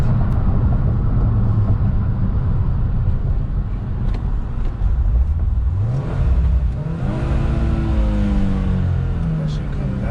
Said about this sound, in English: The downshifts, brother.